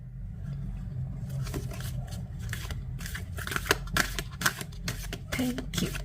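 Tarot cards being shuffled up close, a rapid series of crisp riffling flicks and soft slaps that grows busier toward the end, with a voice faintly present in the background.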